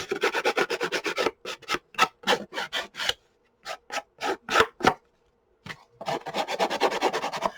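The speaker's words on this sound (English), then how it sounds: "This is just sandpaper that I glued onto a craft stick." Sandpaper glued to a craft stick rubs against paper edges to distress them, in quick close rasping strokes, first rapid and continuous, then in separate short swipes with brief pauses, then continuous again.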